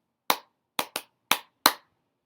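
A small group clapping a rhythm to learn a protest song, five sharp, dry claps in an uneven pattern, two close together, with silence between them.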